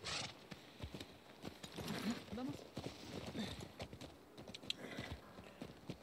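Horse hooves clip-clop in The Last of Us Part II, irregular steps on the ground with a possible snort, while someone talks over them.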